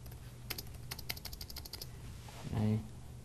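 Clicks from a computer keyboard being typed on while building a web page layout, in a quick irregular run of close keystrokes over a low steady hum, with a brief voice near the end.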